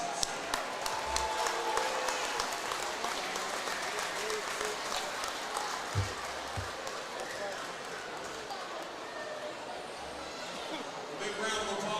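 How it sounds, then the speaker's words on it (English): A basketball gym crowd applauds the Commodores head coach during a postgame trophy presentation, a broad but fairly distant patter of clapping with a few sharp thumps and bounces around mid-stretch. "A big round of applause"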